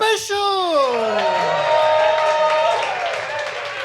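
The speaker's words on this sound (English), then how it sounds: "Give me a round of applause if you're here to see a Joz Norris comedy special." Comedy-special audience claps and whoops, with a loud rising cheer over crowd applause and shouting voices sustained for a few seconds.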